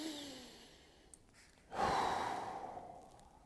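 One deep, close breath is taken and then released in a long, airy exhale during a stretching workout, heard alone without talk.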